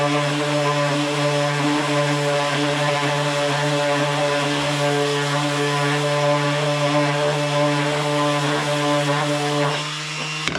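A power sander runs steadily on wood while making a box, a continuous close motor whine with a strong, even tone that holds for the whole stretch and dips briefly near the end.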